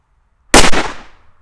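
An Exploder firecracker bursts with a single sharp, loud bang after a moment of silence, followed by a short decaying echo.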